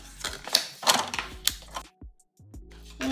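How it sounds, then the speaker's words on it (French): Fold lines are scored into a recycled paper envelope, making a few close, scratchy strokes and taps in a quick cluster, then a short pause and a final scrape. "On vient marquer les plis."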